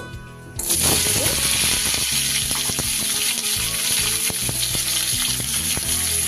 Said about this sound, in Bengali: দিয়ে দিচ্ছি একটু ফোড়নে কালো জিরে ফোড়ন থেকে যেই সুন্দর গন্ধ বেরোবে